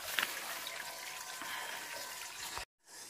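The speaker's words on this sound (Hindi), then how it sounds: "ये जल स्रोत है, कुछ पानी यहाँ से और कुछ पानी यहाँ से" Water from a mountain spring trickles and splashes steadily at close range, a continuous hiss with a brief quiet gap near the end and no talk.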